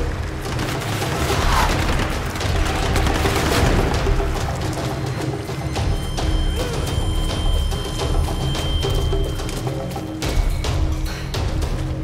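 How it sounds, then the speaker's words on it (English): Enemy gunfire in the Tomb Raider video game keeps up as a steady, dense barrage of shots and thuds that fills the whole stretch, with no clear gaps between bursts. "Oh, they're still shooting at me."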